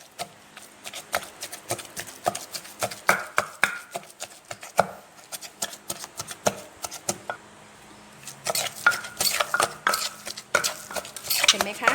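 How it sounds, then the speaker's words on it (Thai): Minced pork is pounded in a mortar at home for a Thai stuffed-squid clear soup, giving repeated sharp, close thuds in uneven bursts with a brief lull partway through. "เราจะตำหมูสับลงไปในครกเลยนะคะ"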